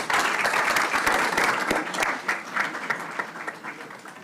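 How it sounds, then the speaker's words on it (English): Audience applause at a school district board meeting, a room of people clapping loudly and steadily, then gradually thinning out as the clapping winds down. "Round of applause for Manuel."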